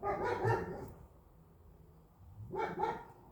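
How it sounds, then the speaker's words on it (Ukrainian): Two single dog barks, one at the start and one near the end, fairly close, separated by a quiet pause. "може це сусідський собака"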